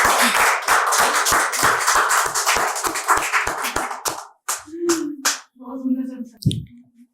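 Audience clapping at a poetry recital: several seconds of brisk, rhythmic group claps that thin out and stop, followed by brief speech.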